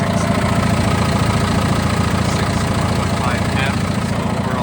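A 2017 John Deere 6115M tractor engine idles with a steady, loud, low rumble that holds constant throughout.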